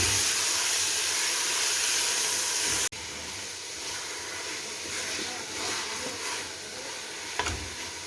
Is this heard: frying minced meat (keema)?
yes